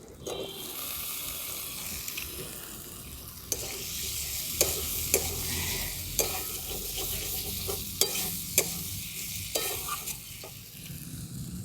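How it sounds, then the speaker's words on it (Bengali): Fried potatoes being stirred into a well-cooked spice masala for matar ghugni, a continuous sizzle overlaid with sharp repeated spatula scrapes and knocks against the pan at irregular intervals, close and without talk. "এরপর আমি দিয়ে দিচ্ছি ভেজে রাখা আলু।"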